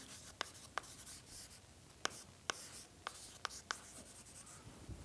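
Faint writing on a board during a university mathematics lecture, with sharp intermittent taps and strokes at an irregular pace over a quiet room.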